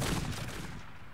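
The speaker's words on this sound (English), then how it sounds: "all our mechs are pretty much getting free shots on them" Dense, continuous weapons fire as battle mechs in the strategy game MechCommander 2 pour shots into a Star Slayer target, a rolling barrage without clear breaks.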